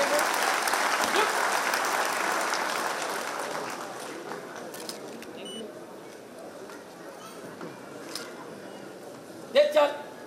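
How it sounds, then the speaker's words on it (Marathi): Applause at a Mumbai Police retirement ceremony, strong at first and gradually dying away to a faint patter, with a brief louder burst of clapping and scattered noises near the end. "टाळ्यांचा आवाज हळूहळू कमी होत चाललाय."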